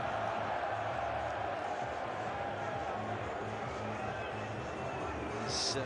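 Crowd at the Sydney Cricket Ground during a Twenty20 match between Australia and England, a steady dense murmur with scattered calls aimed at a fielder on the boundary, continuous and fairly distant throughout.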